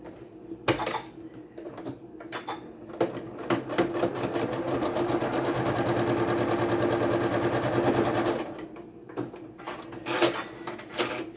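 Sewing machine stitching a small log cabin quilt block, a steady close mechanical whirr running for several seconds between a few handling clicks and bumps.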